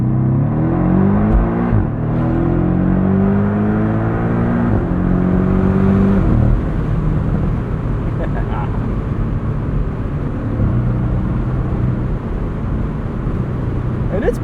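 A 2024 Porsche 718 Boxster Style Edition with a 300-horsepower flat-four engine accelerates in sport mode from the cabin, with rising engine tones stepping through gears under steady road and wind noise.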